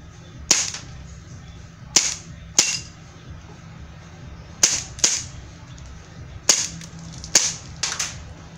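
A Beretta 92A1 pistol fires in a backyard with about nine sharp, snappy cracks, irregularly spaced and sometimes in quick pairs, over a quiet outdoor background.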